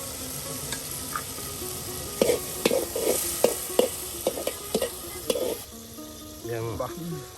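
Ingredients frying and being stirred in a pan for a village-style dried-fish (shutki) curry, a steady sizzle broken by a run of sharp spatula scrapes and knocks against the pan, close and fairly loud, with no talk.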